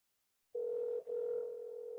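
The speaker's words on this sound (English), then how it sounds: "All right, we're just going to get Rick on the phone." A telephone dial tone starts abruptly after a moment of silence while a guest is called into a livestreamed panel, a steady hum that breaks briefly once and then holds.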